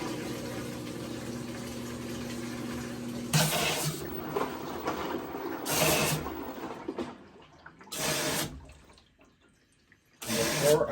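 Kenmore washing machine on a test cycle after a leak repair, with water rushing in bursts; four loud surges of flowing water separated by quieter stretches and a low running hum early on.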